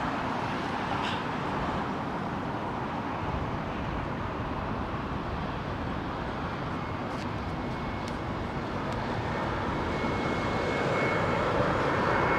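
A jet airliner passes low overhead on landing approach at London Heathrow, a loud continuous engine roar that builds slightly toward the end, heard alone.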